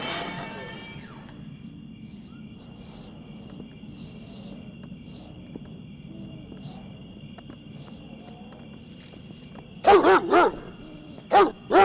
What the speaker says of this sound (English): Nice dog.